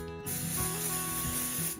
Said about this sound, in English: And then I want to take my adhesive spray.